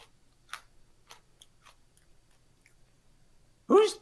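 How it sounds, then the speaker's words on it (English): Chewing on burnt pizza, a few soft crunchy bites and clicks spread through a quiet stretch, followed by a brief louder burst at the end. "Who's chewing stuff?"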